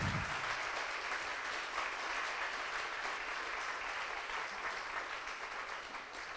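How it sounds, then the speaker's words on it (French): Audience applause after a geopolitics panel talk, a sustained wash of many hands clapping from a seated crowd, steady then gradually thinning toward the end, with no voices over it. "On peut les applaudir."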